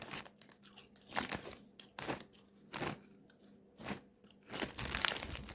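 Crunchy cheese-flavored Farhet El Malayeen snack chips being bitten and chewed close to the mic, a series of loud crisp crunches in irregular bursts with no talking.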